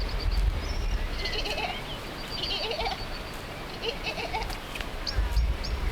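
Several sheep bleat in wavering calls over a steady rumbling background, with a few higher bird-like chirps mixed in.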